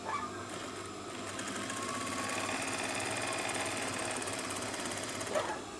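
A sewing machine stitching a hidden buttonhole placket on fabric, a fast continuous rattling run of needle strokes, close and steady, ending with a slight bump.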